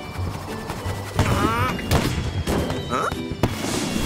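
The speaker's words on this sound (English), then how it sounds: "the fireworks caused a fire" Cartoon fireworks bang and crackle in a burst of layered booms and whistling sparks, loud and close, with a voice speaking over part of the noise.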